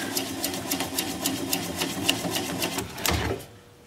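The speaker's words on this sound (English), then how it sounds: "I'm going to apply the bevel of the gouge against the bottom of the bowl" A wood lathe turns a bark-on bowl as a gouge bevel rides against the bottom, giving a rapid, regular series of sharp ticking cuts that stop abruptly near the end.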